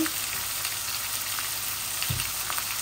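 Onions sizzling and frying steadily in a hot pan for rohu fish dopiaza, a continuous close hiss with occasional faint stirring.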